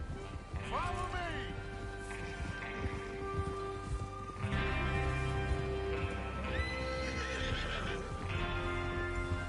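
Horses in the video game Red Dead Redemption 2 neigh and whinny several times over steady clip-clopping hooves, with a voice speaking underneath.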